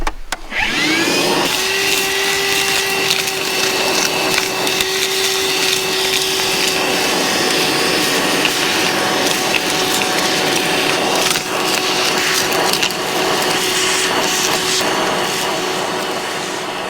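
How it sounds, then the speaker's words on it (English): A loud shop vacuum runs steadily, drawing loose material and gravel out of rock cracks while gold prospecting. Its roar and whine are constant, with scattered rattles and crunches of debris being sucked up. "I'm gonna grab the vac and go suck it up."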